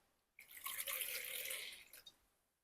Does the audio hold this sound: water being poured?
yes